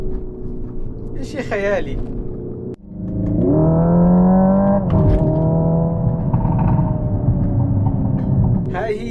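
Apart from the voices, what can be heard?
Hyundai Ioniq 5 N electric car cabin sound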